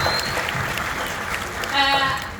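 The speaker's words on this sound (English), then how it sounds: "Can we have a big round of applause for the technical team, everybody?" A theatre audience at a game show applauds, a steady wash of clapping and crowd noise throughout, with a few voices and whoops rising near the end.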